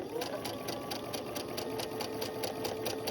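Close, steady machine stitching from a sewing machine running fabric through to the edge, a fast even rhythmic whir with no talking.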